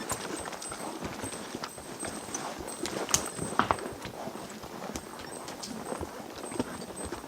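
Gaited mules' hooves clip-clop steadily along a mountain trail through big timber in Colorado, a continuous close rhythm of footfalls on the dirt.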